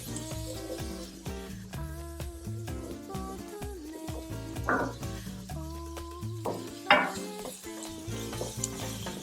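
Garlic sautéing in a skillet sizzles steadily with occasional stirring scrapes, set under a tonal musical background, with a couple of brief louder crackles.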